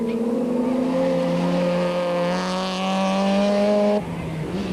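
A rally car racing on a short, tricky track, its engine holding a loud steady rising drone before an abrupt gear change, with a second engine faintly behind.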